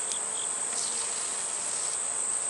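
Honey bees buzzing around a hive in a beekeeper's apiary, a steady high-pitched drone of many insects with faint brief individual passes, unbroken and close throughout.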